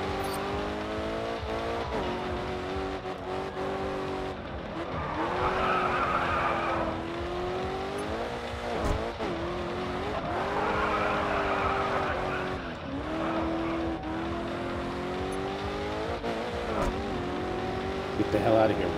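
Racing cars in the GRID 2 video game skidding with drawn-out, wavering tire squeals over a constant engine drone, the squeal rising and fading in several long passes with game sound throughout.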